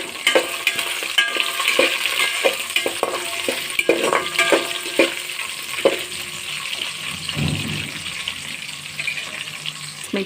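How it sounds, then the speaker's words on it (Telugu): Green chillies and onions fry and get stirred in a pan for homemade Telangana-style bagara rice, with steady close sizzling broken by repeated scraping spoon strokes and a brief watery splash near the end, no talk. "తర్వాత పచ్చిమిర్చి, ఉల్లిగడ్డ వేసుకొని బాగా వేయించుకోవాలి."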